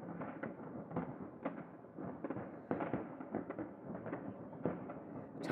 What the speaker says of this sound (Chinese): 而且我发现那个楼顶他们也在放烟花。